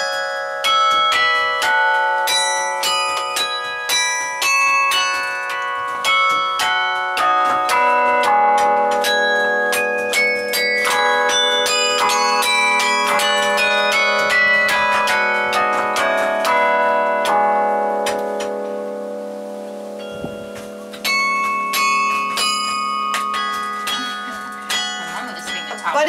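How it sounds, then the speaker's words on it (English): Small metal chimes in a garden are struck by hand, giving a dense cascade of bright overlapping rings that layer and sustain, then thin out briefly before fresh strikes, all loud and close. "Now if you hit just these, it'll all sound like wind chimes."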